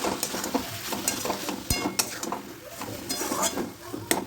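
A spoon stirs fried spice mix into a vegetable chop filling of boiled potato and carrot in a pan, with repeated scraping clinks and a soft sizzle throughout, close and busy.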